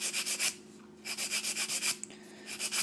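Hand file rubbing across the edge of an acrylic edge nail, close and soft, in quick rhythmic bursts of short strokes separated by brief pauses.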